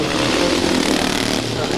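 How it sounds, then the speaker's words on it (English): Vintage speedway-style dirt track motorcycle running on oil-mixed fuel at a classic speedway meet, its engine revving loudly and continuously in a broad raw roar, with commentary talk over it. "You probably find this is more a dirt track bike than a speedway bike."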